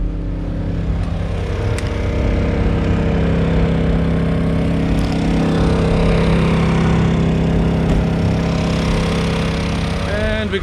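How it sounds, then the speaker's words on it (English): A generator runs steadily outside an RV camper, a loud, continuous engine drone with a constant low hum that holds for the whole stretch, with faint voices briefly underneath. "We got the generator running outside."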